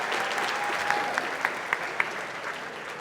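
Audience applause at the 2023 Technology Impact Awards for three startup pitch finalists, a sustained, fairly loud wash of clapping from a large crowd with a few sharper claps standing out.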